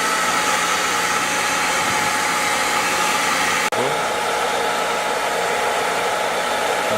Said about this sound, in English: I still got the blow dryer just trying to point it in the direction